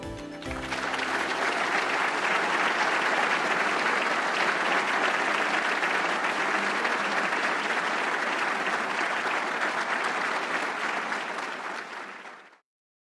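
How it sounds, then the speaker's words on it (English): A large audience breaks into sustained applause at a World Food Prize laureate event, a broad, even wall of clapping that swells quickly, holds steady for over ten seconds, then cuts off abruptly. "I have to applaud you"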